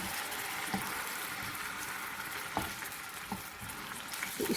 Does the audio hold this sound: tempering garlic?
yes